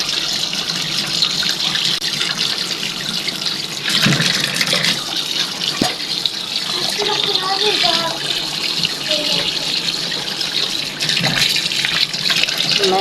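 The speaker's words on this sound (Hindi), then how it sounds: "इसे वॉश कर लेती हूँ पहले मैं अच्छे से।" Water from a kitchen tap runs steadily over a mango being washed by hand, with a continuous splashing hiss and occasional louder bursts as the fruit is turned under the stream.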